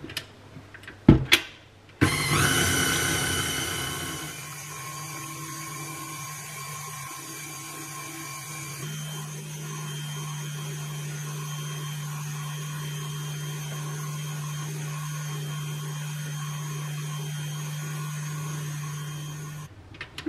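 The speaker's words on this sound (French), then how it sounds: "on va venir mettre à fouetter notre sucre et nos œufs jusqu'à ce que ça devienne très mousseux" Electric whisk beating sugar and eggs, a steady whirring motor drone held for many seconds after a few sharp clicks at the start, close and continuous.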